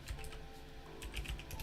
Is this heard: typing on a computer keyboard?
yes